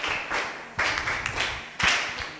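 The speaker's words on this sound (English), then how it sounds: "Can you clap me?" Students in a classroom clap in short rhythmic bursts for a classmate, three distinct group claps roughly a second apart, close and fairly loud.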